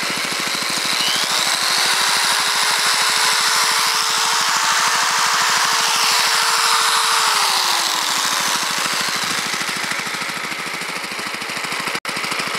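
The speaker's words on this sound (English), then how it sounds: "Just rev the motor up a little bit and it starts generating again." A motor-driven induction generator runs with a loud, steady mechanical drone, and its motor revs up and back down in a smooth pitch rise and fall near the middle, ending with a sharp click.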